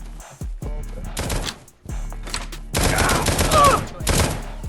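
Gunfire in the survival video game Oxide, heard as several loud, rapid bursts of shots close by, with brief gaps between volleys.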